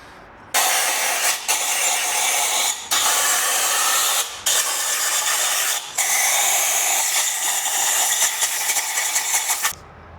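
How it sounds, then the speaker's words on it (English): Compressed air blasts out washed steel cylinder head parts from a Pentastar 3.6 engine, such as valve guides and valve seats, in loud, steady hissing bursts, four long blows separated by brief pauses. "Immediately after washing, you wanna blow out everything that is steel and can rust, like the valve guides and the valve seats"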